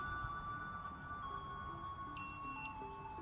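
A single sharp electronic beep from a digital torque wrench tightening bolts on a Subaru EJ257 engine, high and steady for about half a second, over a quiet background hum.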